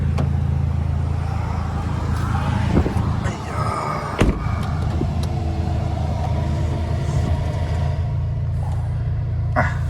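A third-generation Toyota Vios with 15-inch wheels and a tuned exhaust, remapped to run on E20 fuel, idles with a loud steady low rumble, punctuated by sharp pops and crackles, while someone talks over it.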